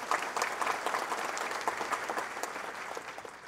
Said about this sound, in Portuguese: Uma salva de palmas ao proponente desta sessão.